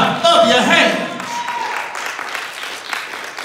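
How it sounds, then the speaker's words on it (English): A church congregation claps hands during a sermon, loud at first then thinning into scattered clapping, with a voice speaking over the top throughout. "Come on and bless the Lord with the clapping of your hands."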